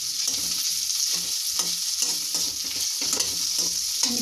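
Ginger-garlic paste with a pinch of cumin seeds fries in hot oil in a pan, a steady close sizzle broken by repeated spatula scrapes and stirring strokes, with no talking.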